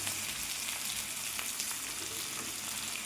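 Tomatoes soften in a hot pan for tomato pickle, producing a steady, close frying hiss with soft bubbling and no voices throughout.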